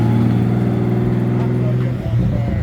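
A Honda Civic race car engine runs steadily close by with a slight tick, a low, even drone that dips briefly near the end while voices talk over it.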